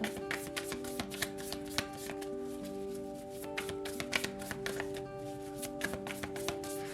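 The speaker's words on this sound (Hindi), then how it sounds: "तो चलिए शफल कर लेते हैं स्कॉर्पियो वृश्चिक राशि के लिए" Tarot cards are shuffled for a Scorpio reading, the soft riffles and taps coming close and fairly quiet in irregular bursts over a steady low background hum.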